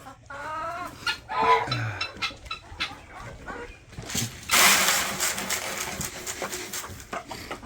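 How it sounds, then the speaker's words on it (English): Chickens cluck at breakfast feeding time, a close, busy mix of squawks and clucks from several birds with a burst of louder flapping or scuffling midway. "So I divide up my chickens in 2 different locations because they just seem to fight over it."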